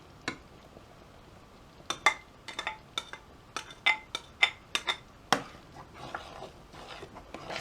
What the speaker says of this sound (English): So now we're going to add the giblets.